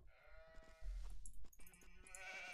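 Sheep bleat in Age of Empires: The Conquerors, a wavering animal cry followed by further bleats over game ambience and thuds, heard alone without talk.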